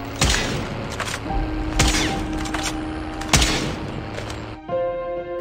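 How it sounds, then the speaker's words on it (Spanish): Shotgun blasts from Call of Duty Mobile while quickscoping, about three sharp, loud booms spaced roughly a second and a half apart over a steady game-sound hum. "Apuntas, disparas y quitas el apuntado."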